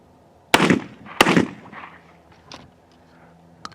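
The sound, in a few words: Cimarron 1878 double barrel shotgun firing Remington number 6 shells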